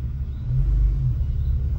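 A car engine accelerating gently uphill, a steady low rumble that swells slightly in the middle and holds, close and alone with no talk.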